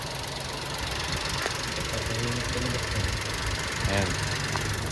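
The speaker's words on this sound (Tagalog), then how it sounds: "Tahimik na kanyang makina." A new truck's engine idles quietly with a steady low hum and faint ticking, while people talk in the foreground over it.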